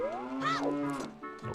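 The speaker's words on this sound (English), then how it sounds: "there's a lot of cows I could talk to here" Cows moo in the Zelda Ocarina of Time video game, a single clear, rising and falling bovine call lasting just over a second, close and alone with no talking.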